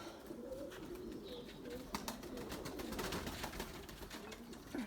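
White pigeons and their chicks coo softly among a low flutter and rustle, with faint clicks and shuffling in a quiet loft and no talk.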